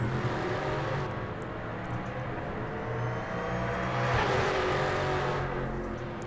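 A Ford Mustang V8 in the racing game Project Motor Racing drones steadily and loudly, holding a low, rough rumble with a swell of revs midway and no voices over it.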